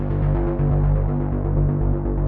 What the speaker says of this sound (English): I have here the polysynth, right, with a sort of a rhythm that will sound like this.